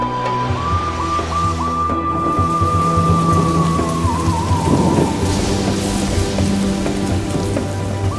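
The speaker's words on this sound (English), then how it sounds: "there is often abundant rain in countries south of Egypt." Heavy rain falls steadily and loudly on surfaces throughout, with low thunder rumbling underneath and a sustained musical tone drifting over the downpour.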